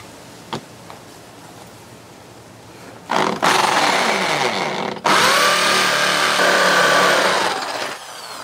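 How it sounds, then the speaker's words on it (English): Power drill boring into fired brick to enlarge a hole for a flag pole anchor, a brief start, then two loud sustained bursts of whining, grinding drilling up close with no talk. "Let me drill that to next size."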